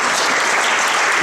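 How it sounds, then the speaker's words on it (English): Brief burst of dense applause from a concert audience at a school fall concert, loud and continuous with no talking. "nice round of applause."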